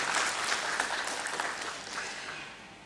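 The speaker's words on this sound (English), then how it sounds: "Can we all have a round of applause and cheers for him," Applause from an audience at a book launch in the BSE convention hall, celebrating Ashish Chauhan's 54th birthday: dense, steady clapping from a crowd that fills the moment and gently fades toward the end, with no voices over it.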